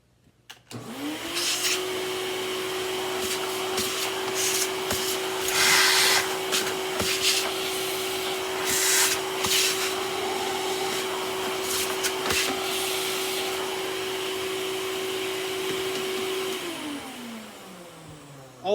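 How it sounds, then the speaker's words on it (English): An old Hoover WindTunnel 2 upright vacuum cleaner starts up, runs with a steady loud motor whine for about fifteen seconds, then winds down, with no talking. "mother-in-law's old vacuum."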